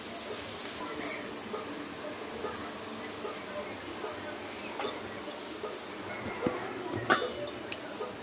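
Raw banana pieces fry in a pan with chili powder and garam masala, a continuous soft sizzle broken by a few light clinks of a utensil against the pan.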